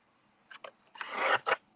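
Scissors cut through card stock close by: a couple of short snips, then a longer sliding cut and a final snip, quiet and with no talking.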